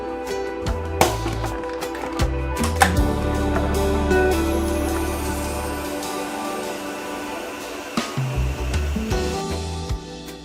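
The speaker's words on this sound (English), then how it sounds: "And then we're gonna blend again." A blender whirs through thick breadfruit punch with added water, a loud continuous motor drone that settles in pitch, stops around eight seconds, then gives a few short clunks and bursts.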